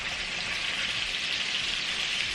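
Catfish frying in hot grease in a frying pan, a steady dense sizzle that holds loud and even throughout, with no voices.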